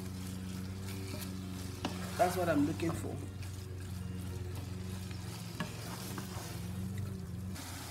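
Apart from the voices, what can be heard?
fish rolls deep frying in oil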